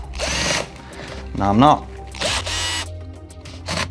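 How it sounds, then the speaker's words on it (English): Power drill backing long screws out of an RC car's suspension, with short whirring bursts rising and falling in pitch between pauses, a few clicks, and a voice speaking briefly alongside. "I'm just going to take these long screws out here"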